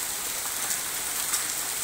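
Hailstorm with hailstones falling in a dense, steady hiss and patter that stays even and close throughout, without talk.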